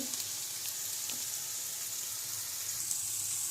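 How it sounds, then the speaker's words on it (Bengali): Dry fruits frying in ghee give off a steady, even sizzle that holds for the whole stretch, close and moderately loud with faint bubbling crackle and no voices. "ঘি দিয়ে ড্রাই ফ্রুট ফ্রাই করে নিয়েছি"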